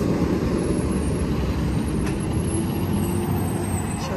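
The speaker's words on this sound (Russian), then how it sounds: "вот видите, вот столько автобусов едет с детьми" Heavy traffic on a city street with a queue of buses carrying children rolling past, a steady loud engine rumble with a brief air-brake hiss near the middle, no talking.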